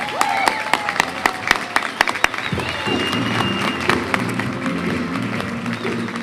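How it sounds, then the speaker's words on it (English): A rally crowd greets the governor of New York with applause: scattered loud claps at first, then swelling into steady dense clapping and cheering that carries on to the end. "give the governor a big standing round of applause, Governor Andrew Cuomo."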